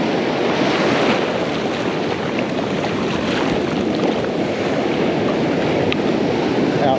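Ocean surf rolls over a sandbar, a loud, continuous roar of breaking waves and rushing water, heard close up and buffeted by wind noise, with no talking.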